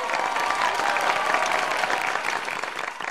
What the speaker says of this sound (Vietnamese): Thưa quý vị, một tràng vỗ tay ạ.